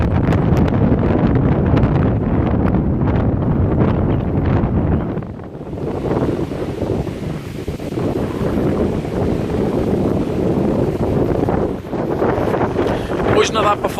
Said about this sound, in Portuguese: está muito vento,